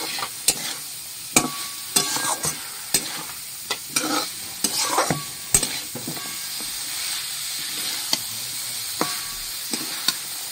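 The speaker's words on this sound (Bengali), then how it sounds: "এবার তুমি আমার এই পালং শাকগুলো দিয়ে দাও তো একটু।" Fresh spinach, part of a mixed vegetable curry with beans and gourd greens, stirred in a frying pan with steady sizzling, punctuated by repeated sharp clinks and scrapes of a spatula against the pan.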